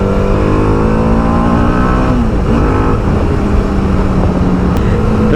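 TVS Apache RR310 motorcycle engine droning loudly while being ridden, with a steady rising pitch under constant wind roar, close and sustained.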